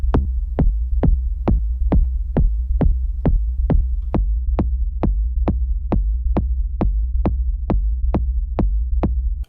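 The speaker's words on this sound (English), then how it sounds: "I'm going to pitch down the kick." A pitched-down techno kick drum from an Elektron Digitone loops steadily at about two hits per second, each deep thump trailing a low booming tail, loud and alone with no voices.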